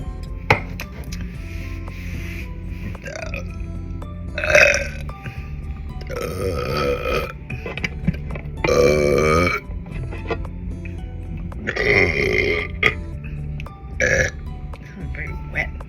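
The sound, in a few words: wet burps after eating berries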